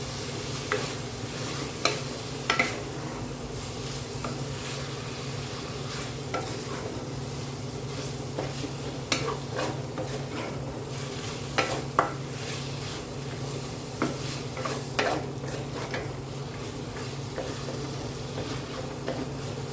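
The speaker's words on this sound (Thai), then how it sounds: "เราก็ จะเติมน้ำกะทิลงไปอีกหน่อย ก็ผัด" Pork with curry paste, coconut milk and beans stir-fries in a pan, a steady close sizzle punctuated by scattered clinks and scrapes of the utensil against the pan.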